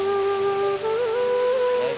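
Persistent rain pours onto a drowned bed of paddy seedlings, an even, dense wash of drops close by, with a thin tonal hum riding above and no talking.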